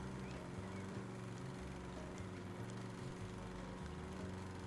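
Lawn mower cutting grass in the video game House Flipper, a steady low engine drone running continuously and evenly at moderate level, alone with no talking.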